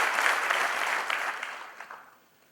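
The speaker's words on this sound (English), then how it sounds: "I would like you to really applaud for yourself." Applause from students at Sri Balaji Society fades out, a dense burst of clapping that thins into a few scattered claps and then quiets.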